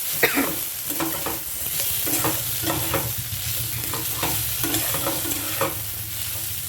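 Vegetables fry in a pan with a steady sizzle, while a utensil scrapes and stirs in repeated rhythmic strokes, close and fairly loud with no talking.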